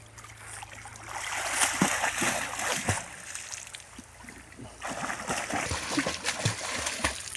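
Children swimming and splashing in an open-air pool or pond in rural Isan, Thailand: continuous nearby water splashes and sloshing with faint distant voices mixed in.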